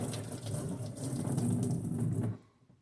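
Water runs steadily from a tap as trumpet valve casings are washed out at home, a close, constant splashing rush that cuts off abruptly near the end.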